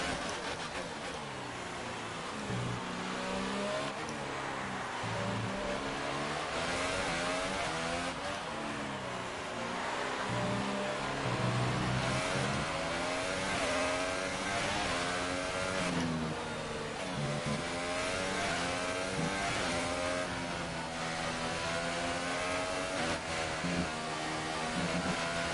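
An F1 race car engine in standard engine mode, from F1 2018 career mode, screams through repeated upshifts and downshifts, its rising and falling whine looping continuously and loudly with occasional tire noise.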